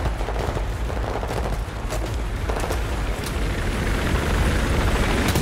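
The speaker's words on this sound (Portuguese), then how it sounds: "Impossível! O helicóptero é invencível!" An enemy helicopter in the Battlefield 4 video game thunders close and loud, with dense bursts of gunfire crackling over the rotor roar throughout.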